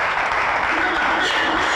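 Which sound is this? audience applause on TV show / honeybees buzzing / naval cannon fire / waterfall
audience applause on TV show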